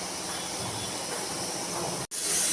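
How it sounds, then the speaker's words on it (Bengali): Water poured into a pan of frying fish masala, giving a steady, loud hissing sizzle that runs continuously, breaks off for an instant, then resumes brighter. "এবার আমি আমার পরিমাণ মতো জল দিয়ে দিচ্ছি"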